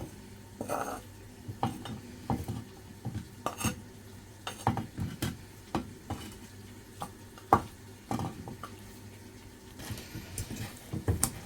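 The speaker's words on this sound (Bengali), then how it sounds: "এই মাটির পাটা দিয়ে এখন আমি আস্তে আস্তে বাটমুনি" Chillies ground on a clay grinding stone, giving irregular scraping and knocking strokes with sharp clacks, close and moderately loud without talk.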